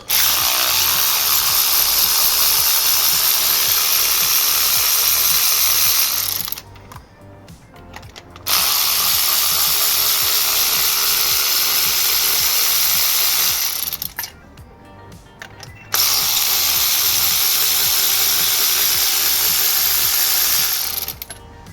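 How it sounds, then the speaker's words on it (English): An electric ratchet whirs loudly and close, removing the coil bolts from a 2019 Audi A4 TFSI engine. It runs in three long bursts separated by brief pauses. "Let's get the electric ratchet. Whiz them off."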